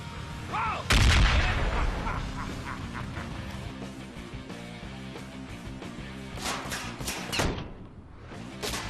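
Gunshots in the video game Ride To Hell Retribution: a heavy blast opens, then a steady loud barrage of shots continues throughout, with a cluster of sharp cracks near the end.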